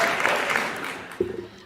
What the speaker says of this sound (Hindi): आप भी ताली बजाते रहिएगा